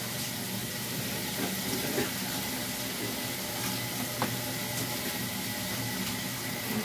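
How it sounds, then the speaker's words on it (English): Cold water pours into a cooking pot for a homemade chicken and beef steak pot pie, a faint, continuous splashing stream heard alone for several seconds. "now I'm going to now add 2 cups of water to this"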